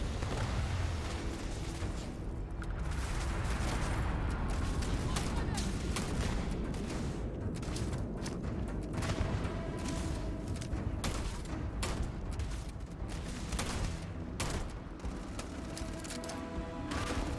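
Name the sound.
grenade explosion and gunfire in the video game Starfield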